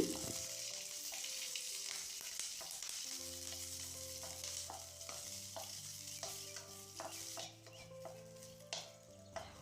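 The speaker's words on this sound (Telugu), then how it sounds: "పచ్చిమిర్చిని లైట్గా వేయించుకున్న తర్వాత ఇందులోకి కొద్దిగా ఆయిల్ వేసి వేపుకోవాలి" Green chillies fry in oil in a pan for radish chutney, a quiet, steady sizzle broken by irregular stirring clicks and scrapes, with soft background music underneath.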